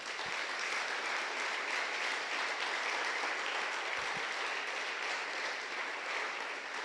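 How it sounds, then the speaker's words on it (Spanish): A congregation claps in a church service, a dense, continuous round of applause from many hands, steady and fairly distant, lasting several seconds. "Denle un aplauso fuerte al Señor."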